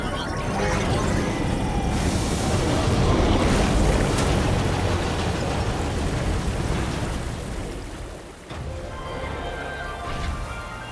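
Water gushes out in the Death Stranding 2 game, a broad, steady rushing wash like surf that holds loud and constant, easing slightly near the end, with faint game ambience beneath.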